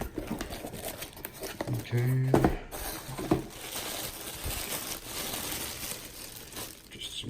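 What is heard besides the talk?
crinkling plastic bags while unboxing a fishing reel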